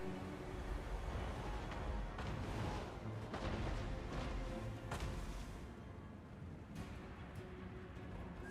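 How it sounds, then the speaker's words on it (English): Hell Cannon artillery in Total War Warhammer 2 fires on a battlefield, giving loud, continuous rumbling booms and crashes with several sharper blasts, dense and sustained throughout with no voices. "They're just shooting the Hell Cannon into trees."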